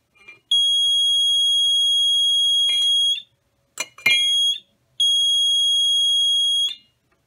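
A water leak detection alarm mounted in a travel trailer gives off loud, piercing electronic beeps in long sustained tones, with a brief broken burst in the middle, close and alone.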